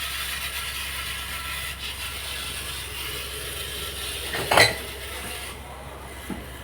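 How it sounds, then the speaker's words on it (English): Motor of an agricultural seed drop system dispensing seeds, a steady mechanical whir with faint ratcheting clicks and one brief louder clink near the end. "Here you can see the motor is dropping the seed."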